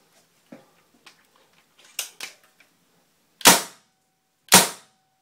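A few light clicks and rattles, then two loud, sharp, dry pops about a second apart from a Spyder MRX paintball marker firing, each cracking close by and dying away quickly.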